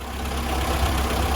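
A classic Mini or Morris Minor car engine idles steadily, close up, as a continuous low rumble with no talking.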